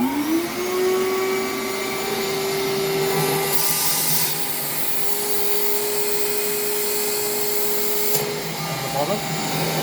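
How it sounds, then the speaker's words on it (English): A vacuum draws air from inside the top of an autoclave sterilizer chamber, producing a steady, loud whine with a sustained hum that holds evenly for the whole stretch, with brief rushes of airflow around the middle and near the end. "once again we suck from inside the top"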